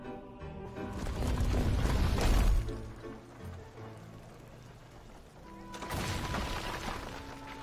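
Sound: catapult shot in video game Might and Magic Heroes 7

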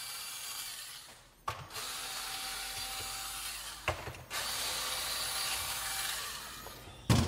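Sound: unscrewing screws to remove Onewheel GT mag handle

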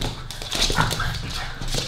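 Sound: dog barking

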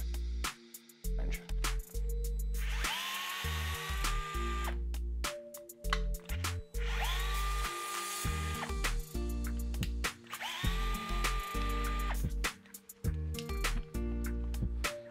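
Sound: removing three gearbox screws with a 2.5mm Allen wrench

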